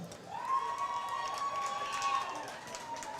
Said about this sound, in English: the cheer section from Xander's hometown lets out a hearty yell